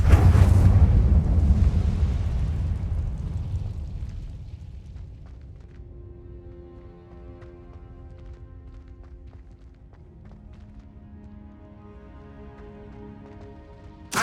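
Casting the Incendio fire spell in Hogwarts Legacy on PS5: a loud, deep roaring burst of fire that fades over several seconds into a low rumble with soft musical tones, ending in a brief thump, and no speech.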